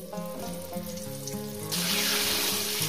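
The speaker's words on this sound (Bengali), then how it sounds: "মাছ ভাজার যে তেলটা, তার সঙ্গে একটু তেল দিয়ে আমি আলুগুলো ভেজে নিচ্ছি" Background music gives way to a sudden loud sizzle as potatoes hit hot oil left from frying fish, crackling steadily and close by.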